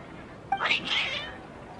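Cats meow in the video game Genshin Impact, a short rising-and-falling cry of about a second that stands out clearly over quiet game ambience.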